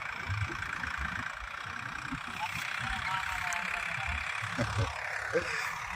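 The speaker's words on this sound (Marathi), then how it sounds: "ट्रॅक्टर तर बघा कसं मूव करतोय." A farm tractor moves across a rain-fed field during sowing, its engine a steady mid-range drone with low rumbling throughout and a few brief knocks.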